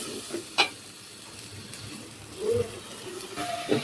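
Spices are fried and stirred in a pan, with a soft sizzle running underneath and a few brief scraping clatters of the stirring spoon, heard close and alone.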